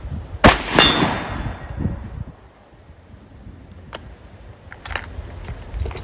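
A rifle shot fired at a 12-inch steel plate about 90 yards away gives a sharp close crack and a ringing decay. Fainter metallic clanks and ticks follow near the four- and five-second marks.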